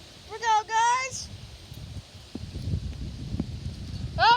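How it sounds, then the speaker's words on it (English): Strong wind gusts roar outdoors before a storm as leaves rustle and trees sway under low, buffeting noise. People exclaim excitedly at the start and end. "Look at this wind!"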